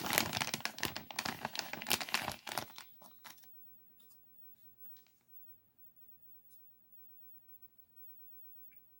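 A plastic bag holding a wireless mod kit for an original Nintendo controller is opened by hand, loud crinkling for about three seconds before fading to near silence with a few faint rustles.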